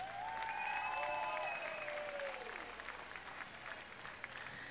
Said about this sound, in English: Let's have one more round of applause for our Grand Marshal, Dr. Kim Smith.